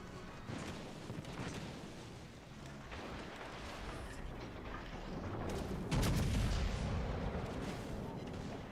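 Ship guns boom in the naval video game World of Warships: Legends as a low, rumbling barrage, with a heavier blast about two-thirds of the way through and a dull roar carrying after it.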